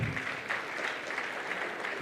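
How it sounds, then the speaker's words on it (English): Steady applause from a conference audience fills the room, dense and continuous clapping at moderate distance with no talk over it. "Another round of applause, ladies and gentlemen,"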